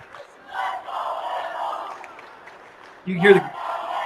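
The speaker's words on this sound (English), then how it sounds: "You can hear the fan section for Walton-Verona cheering right there." Fans of Walton-Verona cheer at a 2024 high school state wrestling championship match. A steady crowd roar of moderate loudness rises into a louder, brief burst of yelling near the end.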